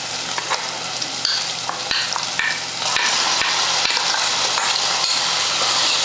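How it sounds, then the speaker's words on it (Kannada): Ground masala paste of green chillies, dry red chillies and tomato frying in a little oil with turmeric for tomato rasam, a loud close sizzle broken by sharp clicks of a spoon stirring and scraping, growing denser partway through. "ಇದು ಒಂದು ಸ್ವಲ್ಪ ಎಣ್ಣೆಗೆ ಫ್ರೈ ಮಾಡ್ಕೊಳ್ಳೋಣ"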